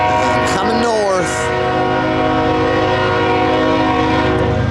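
A CSX Q580 manifest freight of empty rack cars heads southbound at Dalton behind ES44 and AC44 locomotives, sounding a loud, sustained multi-tone horn close by over the steady rumble of the passing train.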